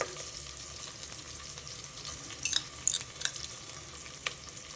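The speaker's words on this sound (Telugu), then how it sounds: "చక్కగా ఉల్లిపాయలు ఇలా వేగాలి ఎర్రగా" Onions frying in oil with ginger garlic paste for bagara rice, a soft steady sizzle with a few sharper crackles and pops, quiet and alone.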